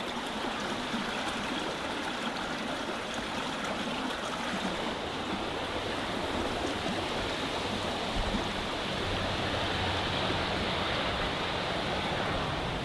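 A badly flooded creek near Homer, Alaska, with rain pouring down, making a broad, constant roar of rushing water that stays steady throughout.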